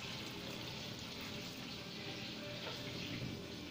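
Clean water from a large jug pours steadily to wash lettuce, a faint continuous splashing stream with no pauses.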